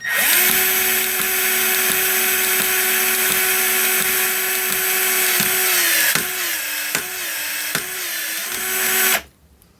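A Milwaukee 2472-20 M12 cordless cable cutter whirs steadily with a high motor whine, then bogs down and labors as it cuts cable in a lower gear, with crunching pops before stopping abruptly.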